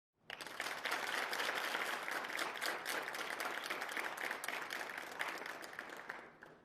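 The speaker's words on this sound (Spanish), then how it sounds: "Ese aplauso fue atronador." Thunderous applause from a large assembly audience, dense and sustained clapping that swells in quickly and holds steady for several seconds before easing slightly at the end.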